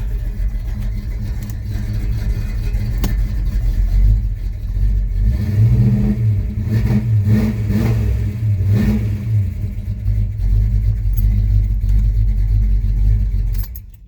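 A 1970 Pontiac LeMans engine heard from inside while driving, a loud steady low rumble that swells as it accelerates around the middle and then settles into an even cruising drone, with no radio or talking.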